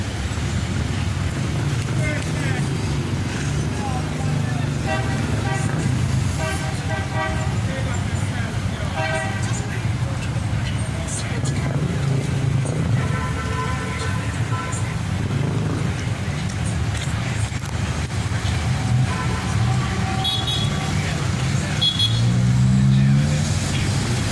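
Busy evening street traffic at Half Way Tree in Jamaica, with a steady rumble of cars and trucks and several short car horn toots scattered throughout, while someone talks over the noise.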